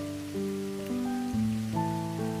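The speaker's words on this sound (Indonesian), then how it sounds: "Suara hujan itu menjadi musik pengantar yang membius." Rain patters steadily on a surface beneath a calm, sustained tonal musical backdrop with slowly shifting notes, a soft even wash with no voices.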